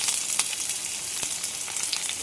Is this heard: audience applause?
no